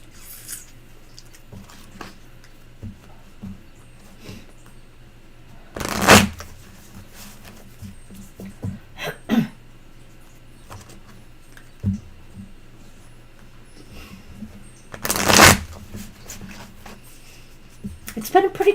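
A Tarot of the Mermaids deck is shuffled in two short, loud riffling bursts close to the microphone, separated by quieter handling clicks and rustles.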